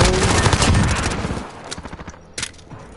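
Rapid bursts of gunfire in a shooter video game, loud dense automatic fire at first, then thinning into scattered individual shots.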